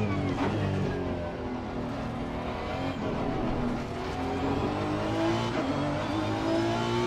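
Honda NSX EVO GT3 race car engine in Assetto Corsa Competizione on the Barcelona circuit, a continuous loud drone that climbs and falls with revs and gear changes, heard alone without talk.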